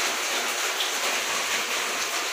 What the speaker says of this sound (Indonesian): Ini kondisinya hujan